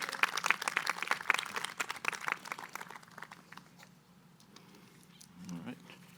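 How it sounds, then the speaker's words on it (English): Applause at an annual town meeting right after the Pledge of Allegiance, loud sharp claps in the first half that thin out and fade, followed by a brief low murmur. "Nice round of applause for these guys."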